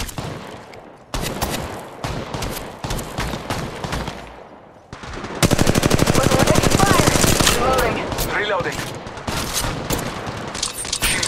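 Rapid automatic gunfire from the mobile shooter Apex Legends Mobile, with dense machine-gun bursts that intensify into a sustained, loud stream of shots partway through, mixed with game effects.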